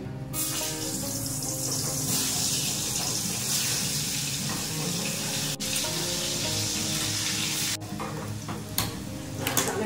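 Hot oil sizzles loudly and continuously in a home kitchen pan, a dense, close crackling hiss that barely varies throughout, with no voices over it.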